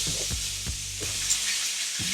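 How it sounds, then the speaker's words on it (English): Bread slices fry in butter in a hot pan, giving a loud, continuous sizzle with a few soft knocks as the slices are moved, and no talking over it. "Yeah, it's sizzling hot. Make sure your pan is hot so it gets that crispiness."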